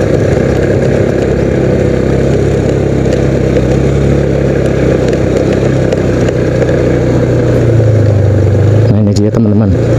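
A motorcycle engine labours and strains while climbing the road to Curug Pletuk waterfall in Banjarnegara. It makes a loud, close, continuous drone that deepens in pitch toward the end, with buffeting noise over it.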